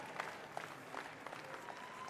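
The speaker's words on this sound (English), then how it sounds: "Round of applause, Zachary Hildebrand" Audience applause at a Department of Defense Warrior Games powerlifting event, a fairly quiet, steady patter of clapping from a small crowd after a missed lift.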